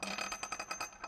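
Two metal washers slid onto a bolt, a quick series of light metallic clinks and rattles close by, with no talking.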